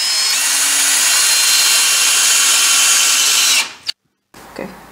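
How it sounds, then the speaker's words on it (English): A hammer drill bores a pilot hole into concrete under carpet at a tile transition, a loud, steady high-pitched grinding whine held for several seconds before cutting off, followed by a brief silence and a faint clatter. "So what I'm doing is pre-drill a hole using a hammer drill."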